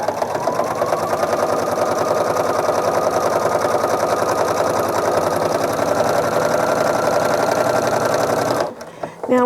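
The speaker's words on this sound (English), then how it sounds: "I'm going to do a couple of back stitches and then stitch all the way down" Sewing machine stitching a seam on a placemat, a steady fast close mechanical chatter running continuously for several seconds before stopping abruptly.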